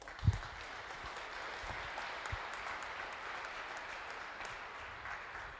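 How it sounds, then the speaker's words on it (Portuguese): A church congregation gives a sustained round of applause, a fairly distant, even wash of clapping with one louder thump near the start. "Pode aplaudir de novo."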